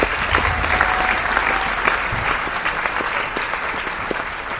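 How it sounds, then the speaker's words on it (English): Sustained applause from a concert gala audience, a dense, steady wash of many hands clapping at an even level throughout, with no talking over it. "Another round of applause."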